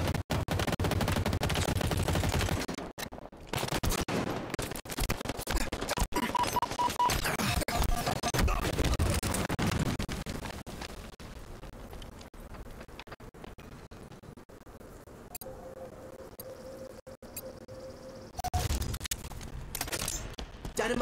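Rapid gunfire bursts from Halo Infinite combat, loud and dense, crackling almost nonstop through the first half, then thinning to sparser shots beneath a steady electronic tone and game effects.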